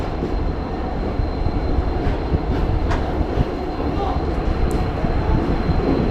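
The Yercaud Express passenger train runs close by between Erode and Chennai with a loud, steady rumble and rattling wheels, faint clicks breaking through now and then.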